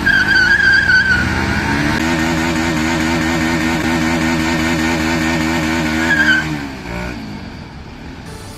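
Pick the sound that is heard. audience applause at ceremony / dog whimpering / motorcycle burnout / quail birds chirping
motorcycle burnout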